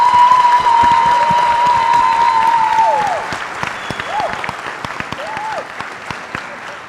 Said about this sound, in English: So please give your biggest applause yet.